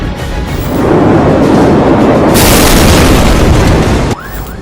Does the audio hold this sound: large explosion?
yes